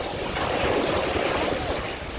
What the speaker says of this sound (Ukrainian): які вже серйозні хвилі